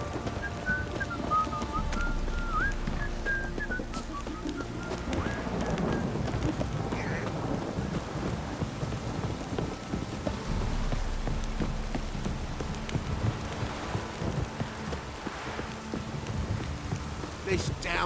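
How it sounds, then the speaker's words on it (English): Heavy downpour in The Witcher 3: Wild Hunt, a dense continuous hiss of rain on surfaces with a faint whistling tone early on, loud and steady throughout, no voices. "This downpour's a bastard"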